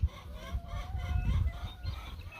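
Chickens clucking in a backyard beside a compost pile, a close and fairly soft run of short murmuring clucks with no one talking.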